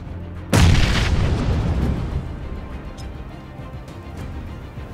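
A single loud grenade explosion in a video game, a sudden booming blast followed by a long rumbling decay, with no talk.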